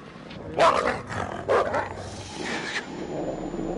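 A dog in the Until Dawn video game barks in two sharp bursts with a gap between them, followed by a softer yelp, all close and loud over a steady game ambience.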